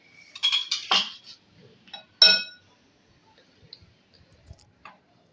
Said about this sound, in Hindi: इसके बाद इसको मिक्स करेंगे और इसको गूंद लेंगे।